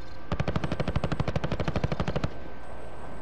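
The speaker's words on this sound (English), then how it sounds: "Who the fuck is shooting me now?" Automatic gunfire rattles in a fast, regular burst of about twenty rounds during a multiplayer shooter game, loud and close, ending abruptly with a faint tone lingering after.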